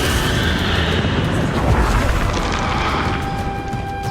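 Confringo blast spell in Hogwarts Legacy final boss battle: a loud, sustained rumbling explosion with crackling debris and booming impacts, fading slightly toward the end.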